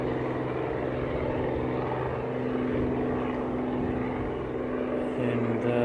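Helicopter departing after takeoff on a hunting trip, its steady rotor and engine drone holding at a fairly loud, even level throughout with a slight shift near the end as it moves off.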